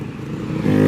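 A Honda Beat 150cc scooter engine revs up briefly and cleanly, pitch climbing toward the end of the short burst.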